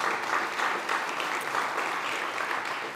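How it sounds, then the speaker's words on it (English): A conference audience at a food-focused SXSW session claps in a steady, moderately loud burst of applause lasting a few seconds, without talk. "Give them a round of applause."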